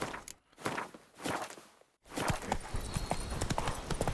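The horse Roach's hooves clip-clopping in the video game The Witcher 3, a quick run of distinct hoof strikes broken by two brief pauses, fairly quiet, with a faint snort and no clear speech.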